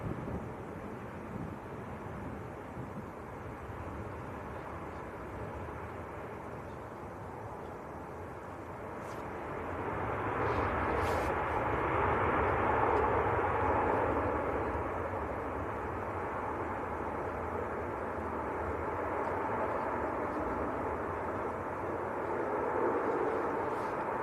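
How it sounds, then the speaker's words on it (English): A Ryanair Boeing 737 MAX arriving from Naples comes in to land at Manchester Airport, a low jet roar that swells after a quiet start and stays steady amid light wind noise, no talking. "Ryanair from Naples about to land."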